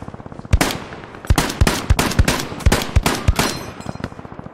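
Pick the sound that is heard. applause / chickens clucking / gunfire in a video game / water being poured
gunfire in a video game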